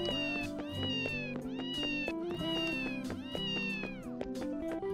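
Cartoonish cat meows from the Ys video game, repeated several times in a rising-falling pattern over continuous game music, loud and close.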